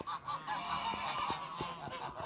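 Geese honk repeatedly in a farmyard during the first big snow, a nasal chorus of overlapping calls at close to middle distance, fairly quiet and with no talking.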